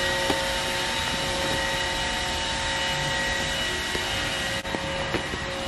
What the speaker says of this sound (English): Also, DJ Roomba is going.